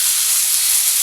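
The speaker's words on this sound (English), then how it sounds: "it's going to start sizzling, so be careful of yourself" Dry vermouth sizzling hard in a hot pan while making a sauce for boneless Greek pork chops, a loud, steady hiss filling the whole second with no talk.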